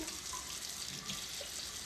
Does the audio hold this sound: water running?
yes